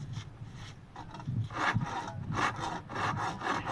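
A handsaw cutting through wood to shape a bed leg, with rough rasping back-and-forth strokes in an uneven rhythm, close and moderately loud.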